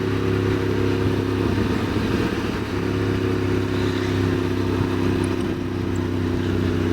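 A motorcycle engine drones steadily and close while riding a sunny mountain road over the Col d'Aspin and Peyresourde in the Pyrenees, with a constant low hum, rushing wind and slight shifts in pitch throughout.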